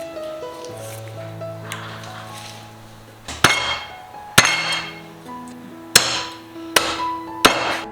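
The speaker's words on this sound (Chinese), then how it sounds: "再砍成大块，因为用来煮汤，最好给它砍大块一点" A cleaver chops a large pork knuckle in half for soup, landing about six heavy, sharp thwacks on a board at uneven intervals, close up, after a stretch of quieter kitchen clinks and tones.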